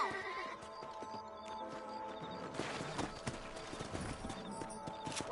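Horses galloping in Red Dead Redemption, their hooves clip-clopping in a steady quick rhythm with occasional whinnies, fairly quiet alongside faint ambient sounds.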